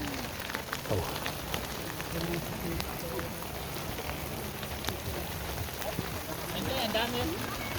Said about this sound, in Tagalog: umuulan na naman